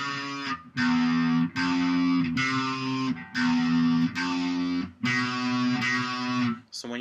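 A distorted electric guitar riff played in a series of loud strummed chords stepping downward, each ringing briefly before the next, with no talking.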